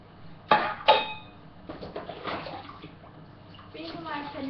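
Tap water running and splashing while a hamster water bottle is rinsed, with two sharp knocks of plastic against the sink, then quieter intermittent splashing and a brief voice near the end.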